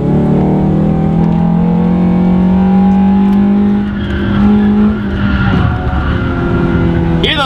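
Car tires squeal loudly during quick double-clutch downshifts, a sustained high-pitched screech over a strained, revving engine that holds steady, briefly eases, then swells again near the end.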